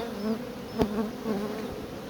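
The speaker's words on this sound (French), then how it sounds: "J'aime bien les ruches, comme les essaims comme ça." Honeybees buzzing close by at a beehive in an apiary, a steady continuous drone with one bee briefly passing loudly near the listener.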